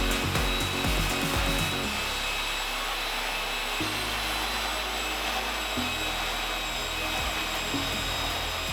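Steady, loud whine of an inexpensive chainsaw-style sawmill cutting a log into lumber, with the motor pitch shifting as the cut loads and eases, and no talking.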